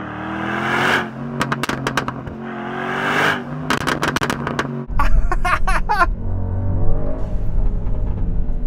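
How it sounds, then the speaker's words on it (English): A tuned car drives by with a blow-off valve hissing and exhaust popping and crackling in short repeated bursts, then a loud rising engine roar, close and strong. "From the blow-off valve, and then from the exhaust"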